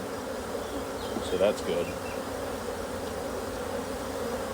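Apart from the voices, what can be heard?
honeybees buzzing around hive frames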